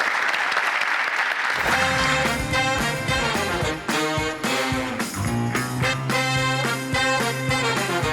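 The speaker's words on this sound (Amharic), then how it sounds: "አንድ ሞቅ ያለ ጭብጨባ ለተወዳዳሪዎች" Audience applause for contestants on an Ethiopian comedians-versus-students quiz show, arriving under a loud musical sting and continuing steadily for about eight seconds.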